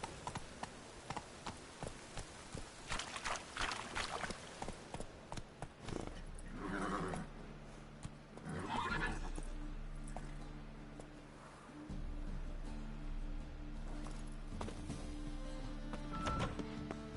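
Roach, a horse in The Witcher 3 video game, gallops with quick clip-clopping hoofbeats up close, then gives way to lower sustained tones and game ambience.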